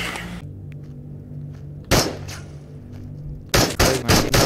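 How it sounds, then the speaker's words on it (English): Shotgun blasts in the VR shooter Into the Radius: two loud, sharp booming shots about a second and a half apart, followed by a ragged burst of several more quick reports, over a steady low ambient hum. "This is the perfect time to use my shotty."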